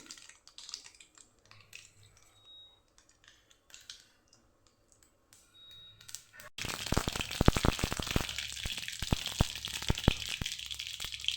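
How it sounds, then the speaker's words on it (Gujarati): Mustard seeds crackle and pop in hot oil during tempering for a papaya sambharo. After a quiet start, a dense, loud burst of rapid popping and sizzling begins suddenly and keeps going steadily to the end. "રાઈ આપણી ફૂટી ગઈ છે"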